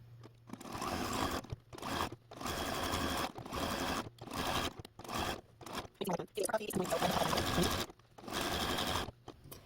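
A sewing machine stitches an appliqué vine on a quilt block in bursts of fast whirring. Short pauses separate the bursts, and a voice speaks quietly between some of the runs.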